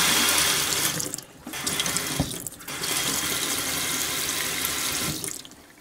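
A tap runs in a motorcoach's sink, with water pouring steadily and close by. The flow breaks off briefly twice and then resumes, with no talk over it.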